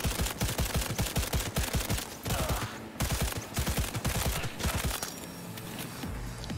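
Smart guns in the game Cyberpunk 2077 fire rapid bursts of sharp, punchy automatic shots, loud and close, with brief pauses between volleys.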